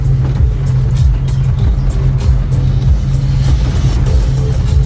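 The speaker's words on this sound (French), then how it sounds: "cette cascade de chef en camion sans permis" A license-free microcar truck's small engine drones steadily and close by, with a low, rumbling hum that rises and falls slightly as it drives.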